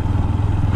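A 2024 Bajaj Pulsar NS 125 E20 motorcycle rides slowly over a broken street, its engine a loud, steady low drone with light rattling clatter, close to the rider.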